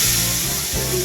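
Hot oil for noodles sizzles in a pan, a steady bright hiss over a low background hum, fairly loud and brief, with no one talking.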